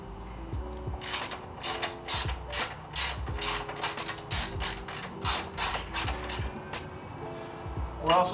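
Hand ratchet clicking as 15mm bolts are loosened on a Tesla Model 3 during installation of a brake master cylinder brace, a close run of rapid metallic ratchet clicks in repeated bursts with a person talking over them.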